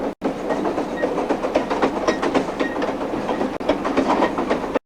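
An old Canadian diesel locomotive train rolls along rock-cut railway track, a continuous rumbling roar with rhythmic clickety-clack of wheels over rail joints, close and loud, with brief dropouts.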